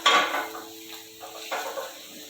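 Chicken roulade filling gets sautéed in a pan: a spatula clatters and scrapes against the metal at the start, then a soft, steady sizzle and light stirring follow.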